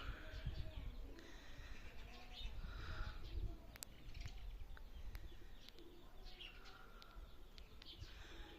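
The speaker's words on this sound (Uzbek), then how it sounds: "Bunaqa kaptarlar ham bor." Pigeons coo softly in a pigeon-keeping setup, low murmuring calls with occasional chirps and wing flutters over a faint background hum, moderately distant and quiet.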